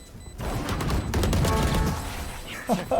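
Rapid bursts of gunfire in the Counter-Strike video game, a dense close volley of shots sustained through most of the moment, with players talking and shouting over it.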